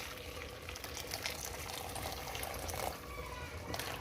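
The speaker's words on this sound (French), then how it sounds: "Je vais pouvoir ajouter de l'eau, donc de l'eau bouillante." Boiling water poured into a pot of couscous meat with softened onions and tomato, a steady continuous splashing and hissing stream that runs close and fairly loud for the full length.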